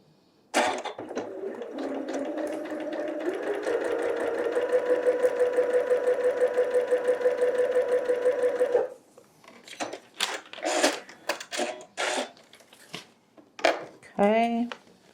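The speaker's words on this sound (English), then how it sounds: "I'm going to sew on the line between 1 and" A sewing machine stitches along a seam line on a paper-pieced quilt block, running in a steady, fast, close-up whir for about eight seconds, then stops and gives way to handling noises and talk.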